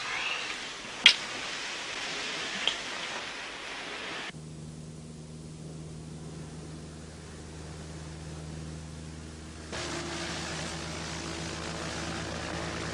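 A propeller airplane drones steadily during a flying lesson, a faint, continuous engine hum and hiss heard from inside the cabin, with a couple of small clicks near the start and a shift in tone partway through.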